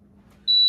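A workout interval timer sounds a single loud, steady electronic beep that begins midway and holds to the end over a quiet room hum.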